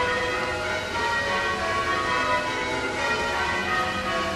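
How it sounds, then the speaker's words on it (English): Bells of the Bell Tower at Barrack Square in Perth, Australia ring continuously, their dense overlapping tones sustained at an even, loud level throughout. "The bell tower."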